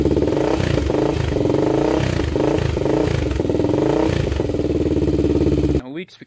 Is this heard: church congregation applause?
no